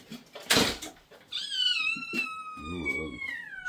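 A cat meows in a drawn-out, rising and falling cry, close and clear, with a sharp knock just before it and a voice speaking alongside.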